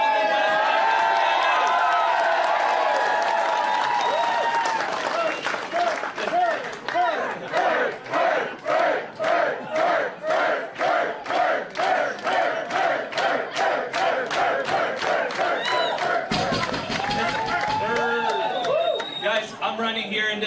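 Crowd at a Conservative Scheer campaign rally in Ancaster, Ontario, cheering loudly and then breaking into rhythmic chanting and clapping, a dense, close roar of many voices that pulses steadily before a brief pause and swelling again.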